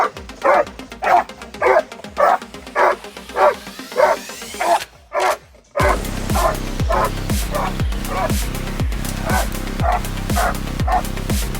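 A bandog named Clyde barks in a steady string of loud, deep, close barks during a bite force test, broken by a short pause, after which a continuous rattling rumble sets in under the ongoing rhythmic barking.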